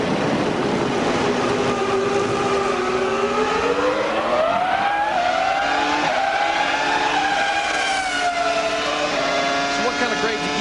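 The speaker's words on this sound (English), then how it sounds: "Let's listen as Jeff gives it some stick." A NASCAR stock car driven hard on a race track, its engine roaring loud and continuous with rising and falling pitch as it revs through gears; a voice may be faintly present beneath.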